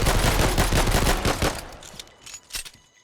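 Rapid bursts of enemy gunfire in a cheap asset-flip shooter game on Steam, loud dense volleys for the first half that thin out into a few scattered, fading shots.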